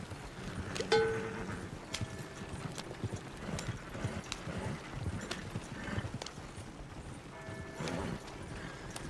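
Horse hooves clip-clop steadily in the Red Dead Redemption 2 video game as a rider travels toward the town of Valentine, a continuous rhythmic trot at moderate loudness with faint game ambience underneath and no talk.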